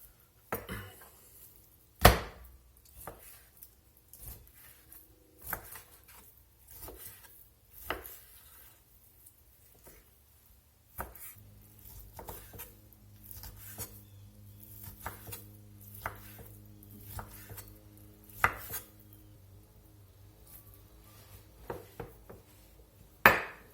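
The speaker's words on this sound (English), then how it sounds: "Now I'm going to get this chopped up into some cubes" A knife cutting steak into cubes on a board for steak chili, irregular close thuds and taps with scraping between them, continuing in uneven bursts with a low hum beneath.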